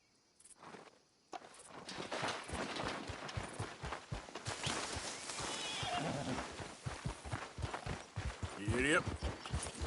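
Horse hooves thud in a steady galloping rhythm inside the Red Dead Redemption 2 video game, loud and close, with game sounds and a voice urging the animal on in the background.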